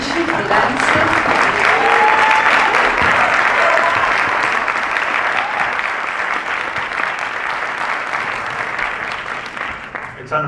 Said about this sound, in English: there's only like 8 or 10 people that clap there